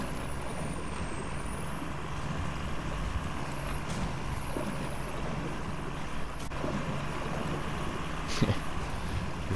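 A heavy truck in the SnowRunner video game grinds through swamp terrain, its engine a steady, dense drone with a constant high whine running over it.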